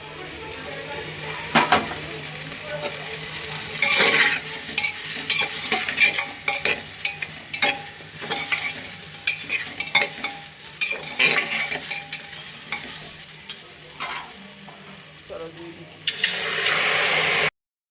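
Food stirred in a frying pan in a home kitchen, giving steady scraping and clattering strokes over a continuous sizzle, with occasional louder knocks against the pan and faint water sounds.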